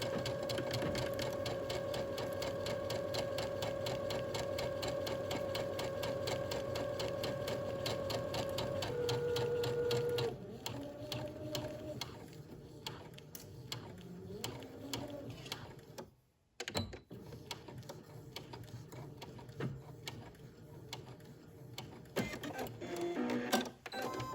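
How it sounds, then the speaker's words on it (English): A sewing machine stitches the shoulder seams of a shirt dress, running steadily with a fast mechanical whir and rattle, then slowing into shorter bursts and pauses near the end. "we're going to sew the shoulders from the outer edge to the neck edge"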